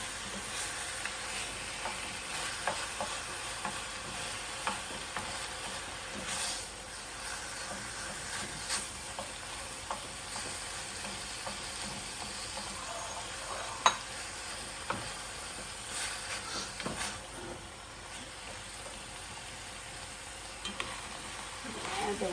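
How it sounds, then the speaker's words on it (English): Chili ingredients sautéing in a pan, a faint continuous sizzle with scattered light scrapes and clicks of a utensil stirring, no voices. "Saute that for just a bit."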